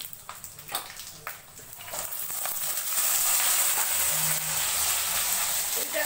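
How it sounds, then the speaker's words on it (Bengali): Garlic with dried and green chillies frying in oil, a steady crackling sizzle that swells and holds loud after a few scattered pops at the start. "রসুনগুলো তেলের মধ্যে দিয়ে আগে পুরো ভেজে নেবো"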